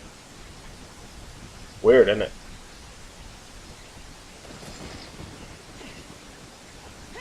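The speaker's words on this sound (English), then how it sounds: "But it's raining." Rain falls in Ocarina of Time as a steady, soft hiss running throughout, with a brief spoken remark over it.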